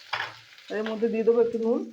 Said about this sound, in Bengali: এই তেলের মধ্যে প্রথমে আমি জিরের ফোড়ন দেবো।